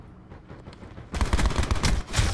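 Pistol gunfire cracks in Call of Duty Black Ops 4, quiet at first, then a loud burst of rapid shots from about the midpoint to the end.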